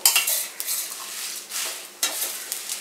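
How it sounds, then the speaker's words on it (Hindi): Nagpuri kala masala spices fry in a pan over very low heat while a metal spoon scrapes and stirs them, giving soft repeated scraping strokes over a faint sizzle, with clinks of cutlery against the pan. "बिल्कुल धीमी आंच पे हमें पकाना है, इसे फ्राई करना है।"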